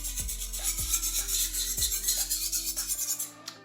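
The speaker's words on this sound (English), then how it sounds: "You can see this grit is forming, so that's what's sharpening the knife." A kitchen knife rasps repeatedly across a gritty sharpening stone in steady back-and-forth strokes, each pass a close, scratchy rub with a soft knock at the turn, ending with a light clink.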